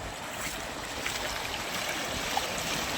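Floodwater rushing after heavy rain in Kadegaon, Sangli, a steady broad roar of flowing water heard at moderate distance, continuous and even with no voices.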